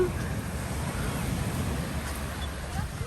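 Sea waves at Kumburnu beach in Ölüdeniz make a steady, broad wash of surf, mixed with wind buffeting the microphone, continuous and fairly close throughout.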